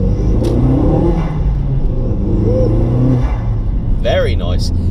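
A remapped Cupra with a Miltek exhaust pulls hard under acceleration, its engine drone and road rumble loud and steady from inside the cabin, with a short whirring rise near the end.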